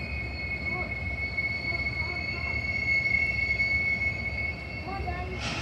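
A train rolls past with a steady rumble and a sustained high metallic wheel squeal over the whole stretch, fairly close and loud.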